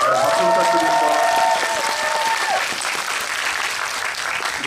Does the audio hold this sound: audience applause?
yes